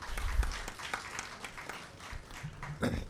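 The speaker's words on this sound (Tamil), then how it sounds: "அதனால் அவருடைய இந்த முன்னெடுப்புக்காக நாம் ஒரு மிகப்பெரிய ஒரு கரகோஷத்தை எழுப்புவோம்" An audience at a talk on artificial intelligence breaks into applause, a quiet, scattered patter of clapping heard from some distance.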